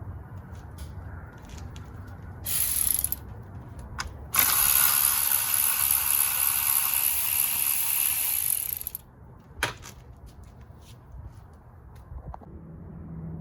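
A ratchet wrench clicks rapidly while loosening spark plugs on a Jeep Grand Cherokee V6, with a long, loud run of ratcheting in the middle and shorter bursts before and after, close to the microphone.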